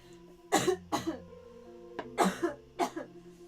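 Four loud, sharp coughs in two pairs, close up, with faint background noise in between.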